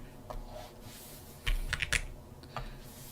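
Typing on a computer keyboard during a livestream of integral solving: a handful of sharp, close key clicks, sparse at first, then a quick cluster of several keystrokes, then one more isolated tap, with no voice over them.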